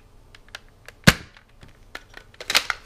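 An X-Shot Rapid Fire toy blaster fires a waffle dart with one sharp, close snap, surrounded by lighter plastic clicks and a cluster of further ticks and knocks shortly after.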